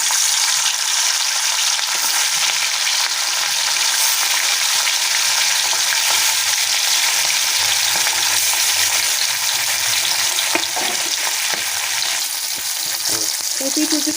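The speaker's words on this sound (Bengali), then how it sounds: "এবার সরষের তেল দিয়ে ইলিশ মাছগুলো ভাজবো।" Hilsa fish pieces fry in hot mustard oil with a steady, loud broadband sizzle throughout, with a few clacks of utensils near the end and no talking.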